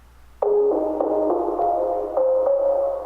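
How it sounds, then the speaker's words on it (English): A plucky, atmospheric synth texture built from a chopped sample, with soft attacks every half second or so over a sustained tonal pad, played alone without talk. "this plucky, atmospheric kind of texture"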